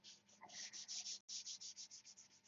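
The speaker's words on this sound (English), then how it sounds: "Now you just notice I just sprayed that and I'm sanding." Rhythmic back-and-forth sanding strokes rasp steadily across freshly sprayed paint on a control-line P-51B model plane, about a dozen quick passes with a brief pause midway, faint and close.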